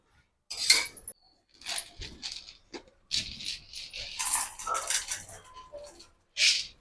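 Roasted gram dropped into a pan of lightly fried coconut and green chillies, giving a loud dry rattling patter and clinking as the grains scatter, in several bursts with short pauses.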